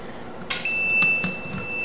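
Fluke voltage detector sounding its alarm near a live wire in an electrical box, a high steady electronic tone starting early and holding, with a few short clicks layered over it.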